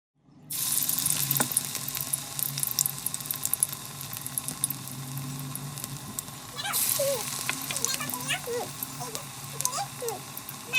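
Kulekhara leaf fritters fry in oil in a kadai, a steady close bubbling sizzle that starts abruptly and runs throughout, with a voice speaking briefly partway through.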